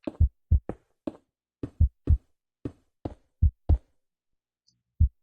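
Heartbeat effect in the Cobblemon video game: a series of close, loud double thumps in a steady rhythm, about a dozen beats, then a pause and one final beat, with no talk.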